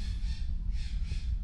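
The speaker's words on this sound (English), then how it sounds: "can you hear them birds kicking off out there?" Crows cawing outside a shed, faint and distant, a few harsh calls over a steady low rumble of background noise.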